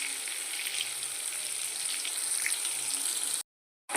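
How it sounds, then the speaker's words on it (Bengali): Pointed gourd frying in hot oil gives a steady, close sizzle with a faint crackle, running evenly for about three and a half seconds before cutting to silence. "ভালো করে ভেজে নেব।"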